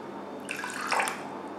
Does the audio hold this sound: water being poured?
yes